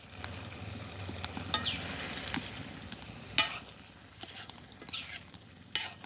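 A village-style curry fries in a pan as cumin powder goes in: a continuous crackling sizzle under repeated stirring scrapes and metallic clinks of a spoon against the pan, with a few louder bursts.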